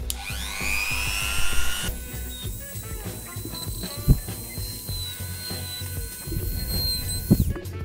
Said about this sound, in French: j'ai donc installé un petit fouet pour percer les trous d'emplacement du Angel Eyes